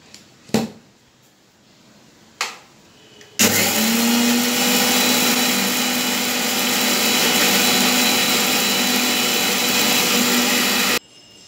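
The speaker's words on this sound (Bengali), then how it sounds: "আর চার পাঁচটা কাঁচা লঙ্কা আর অল্প একটু লবণ দিয়ে আমি একটা মিহি পেস্ট তৈরি করে নেব" Blender grinding green chillies, poppy seeds and salt with a little water into a fine paste, a loud continuous whirring motor running about eight seconds after a couple of brief knocks, then stopping abruptly.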